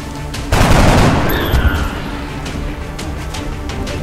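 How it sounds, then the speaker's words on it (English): Weapons fire from soldiers in XCOM: Enemy Unknown, a loud burst opening into a rolling barrage of shots with booming echoes, gradually easing into steady background rumble. "Get ready to fire."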